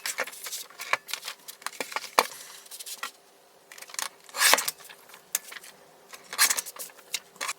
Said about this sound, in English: So I'm just going to cut this out now.